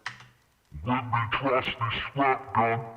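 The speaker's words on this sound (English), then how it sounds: "if we didn't play around with the format shift, an octave down would sound like this" A deep, unnaturally low voice pitched down an octave without formant shift speaks a few muffled phrases, sounding murky.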